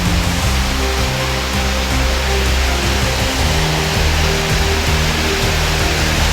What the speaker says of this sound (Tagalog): gigisingin ka na sa malakas ng ulan